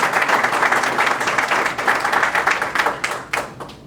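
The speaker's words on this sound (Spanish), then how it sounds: "Si le regalamos un aplauso" A crowd at a corporate presentation claps in a dense burst of applause, with a few distinct, sharper claps standing out as it tapers.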